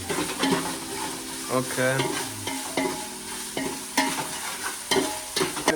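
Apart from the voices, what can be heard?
fish pieces frying in a pan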